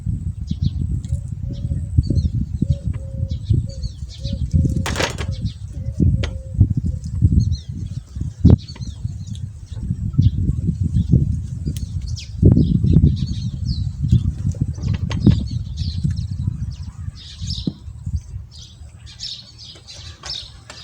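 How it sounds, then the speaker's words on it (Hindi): Birds sing in open countryside fields, scattered chirps and short calls rising over a steady low rumble of wind and background noise, faint to moderate and continuing throughout without any talking. "उसमें परिंदों की बड़ी प्यारी प्यारी आवाज़ें आपको आएंगी।"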